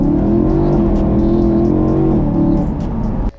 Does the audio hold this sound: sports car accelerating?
yes